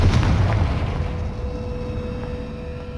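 A Confringo fire spell bursting in Hogwarts Legacy, a loud low boom at the start that rolls into a sustained rumbling decay, with a faint steady tone running underneath.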